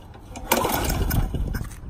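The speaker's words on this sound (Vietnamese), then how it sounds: "Giật máy cắt cỏ thôi." Someone yanks the pull cord to start a lawn mower engine, and a sudden loud, rough mechanical burst follows, churning unevenly for over a second close to the microphone.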